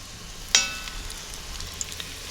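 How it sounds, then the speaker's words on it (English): Beef short ribs browning in an electric pressure cooker on sauté mode; a sharp sizzle as meat hits the hot pot, then a soft steady frying hiss with faint pops, close and quiet, no talking. "I'm going to brown the ribs in batches."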